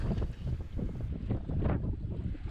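Sailboat running downwind with the pole out in 15 to 20 knot winds, a rough steady rush of wind buffeting the microphone with low water wash beneath, close and continuous.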